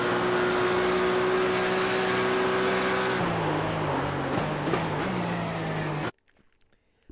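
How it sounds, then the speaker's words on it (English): Porsche Cup race car in the iRacing sim, its engine droning loudly with a steady tone that drops in pitch as the car brakes, tires briefly scrubbing under lock-up before the sound cuts off abruptly near the end. "So you hear the tires make like a little bit of a scrubby noise."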